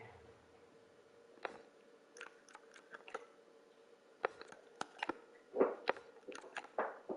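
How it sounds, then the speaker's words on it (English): A dog chewing on a bone nearby, faint irregular gnawing clicks and crunches that grow more frequent and louder toward the end, over quiet room background. "He's chewing on a bone."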